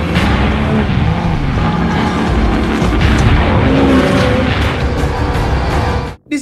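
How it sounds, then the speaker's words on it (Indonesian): Film car chase with loud, continuous engine roar, tire squeal and skidding, dense and close for about six seconds before cutting abruptly to near silence. "Dan aksi kejar-kejaran pun terjadi."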